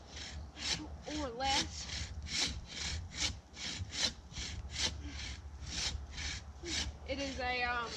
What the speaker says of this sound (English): I basically ordered this product that I can saw through a tree with it within like 10 minutes